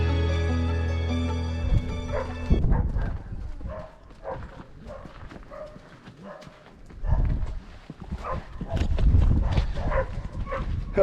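Dogs bark in bursts on a rural path on the island of Brač, several sharp barks from nearby, loud and irregular, with hoof-like clatter and sounds of moving about in between.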